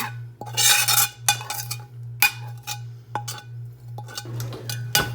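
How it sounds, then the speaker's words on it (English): Metal spoon scraping and clinking against a pan while ladling juices over Salisbury steaks, a series of irregular close taps and scrapes over a steady low hum of sizzling. "You could just take a spoon and kind of ladle it over top."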